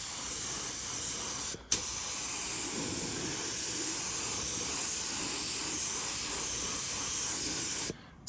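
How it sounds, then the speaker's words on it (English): An HVLP touch-up spray gun lays a light mist coat of paint on cowl louvres for a Cessna 150, giving a steady, close hiss that cuts off briefly and then resumes. "I'm just gonna give them a light little tack or mist coat right now. Just using my touch-up gun for this,"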